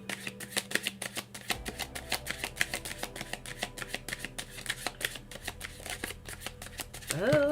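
Tarot cards are shuffled with a rapid, continuous riffling and flicking, close and fairly quiet, ending with a brief higher-pitched sound.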